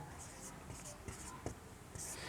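Letters being written on a board, with short scratchy strokes and taps in quick bursts, close but fairly faint, under a quiet voice speaking.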